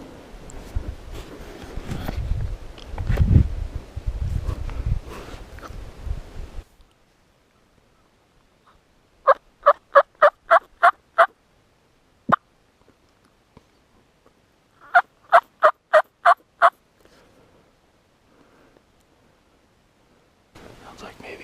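A Merriam's wild turkey gobbles on a rimrock hillside on public land: two separate rapid, rattling bursts ring out clearly at moderate distance, following hushed whispering at the start and long stretches of quiet.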